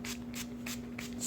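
Water spritzed from a spray bottle onto medium 4A/4B natural hair before styling a high puff: four or five short, crisp hissing bursts at a steady pace, close up, over a constant low background hum.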